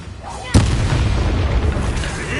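An Incendio fire spell cast in Hogwarts Legacy, a sudden loud burst followed by a sustained roaring, crackling fire rush that stays strong to the end.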